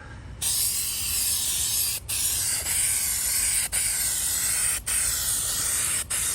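Hammered gold paint hisses from an aerosol can onto parts of a 1950s Sears Dunlap drill press under restoration, in five long, loud, steady sprays separated by brief pauses.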